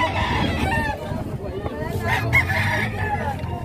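Roosters crow loudly and repeatedly nearby, their calls overlapping amid a busy background with some faint chatter.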